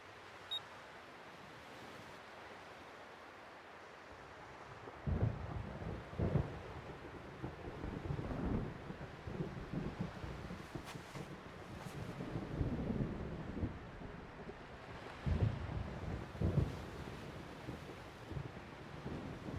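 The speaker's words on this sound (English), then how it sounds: "I hate thunder." Stormy beach weather in the video game Xenosaga Episode 1: steady wind and surf-like rushing noise with several deep rumbling swells of thunder rising and fading, fairly faint, with no talking.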